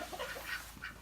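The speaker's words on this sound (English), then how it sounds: "This is a silky chicken. This guy's actually a rooster." A Silkie chicken rooster gives a few short clucks and murmurs, close by and fairly quiet, in a brief indoor moment with no talking.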